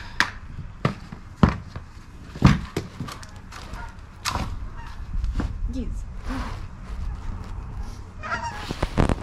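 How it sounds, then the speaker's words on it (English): Several loud Canada goose honks ring out in bursts, close by, with scattered thumps and outdoor noise between them. "Geese."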